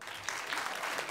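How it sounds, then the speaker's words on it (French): Brief burst of crowd applause at an Afro dance battle, steady even clapping from the audience throughout the short moment. "On peut les applaudir encore"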